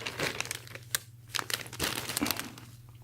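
A Palace Ziploc bag crinkles during an unboxing, with bursts of close, crisp plastic crackling and rustling that come and go in quick handling, with no voices.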